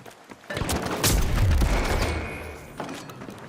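A frag grenade booms in The Finals, a heavy blast rising around the first second and rolling on with mixed gunfire and rumble before easing off.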